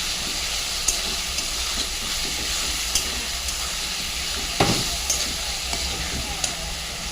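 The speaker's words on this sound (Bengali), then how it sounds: "এতে আছে আদা, রসুন, পেঁয়াজ, টমেটো দিয়ে ভালো করে তেলে কষা হচ্ছে" Ginger, garlic, onion and tomato sautéing in oil give a steady, close hiss and sizzle with a few sharp scrapes and clinks scattered through, and no speech.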